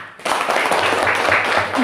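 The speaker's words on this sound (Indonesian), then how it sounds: "tepuk tangan untuk kita semua" A short burst of group clapping starts abruptly and fills the room for under two seconds, close and fairly loud, in a classroom session where everyone is applauding each other.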